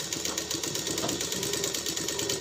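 A tailoring sewing machine running a rough edge stitch, a close, steady rapid mechanical whirring and clatter with even rhythm throughout.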